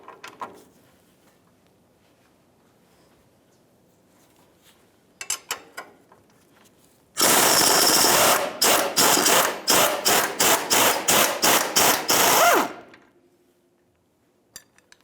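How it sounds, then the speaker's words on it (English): Wrench and socket work on a lower suspension bolt of a 1992-1996 Ford F-150 radius arm bracket: a few faint clicks, then a loud, sharp burst of rapid metallic ratcheting or impacts in quick repeated pulses lasting about five seconds. "Now 18mm socket and a 17mm wrench. I'm going to take that lower bolt out."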